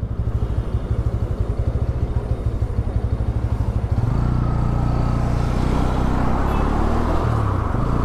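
A 2024 Bajaj Pulsar N160 motorcycle idles with a rapid, even putter, then revs up and pulls away in first gear, the engine note rising into a steady, loud drone heard close by from the rider's position.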